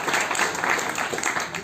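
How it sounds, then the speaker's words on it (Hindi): Audience applause at a Vijay Diwas speech event, a continuous wash of many people clapping, fairly close and loud, with a faint hint of voices under it. "तालियों में कंजूसी ना करें, तालियां बजाते रहें।"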